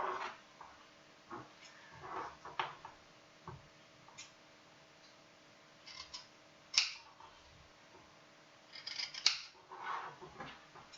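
Scissors cutting small squares from pairs of fabric, soft intermittent snips and crisp clicks spread apart, faint and close in a quiet room.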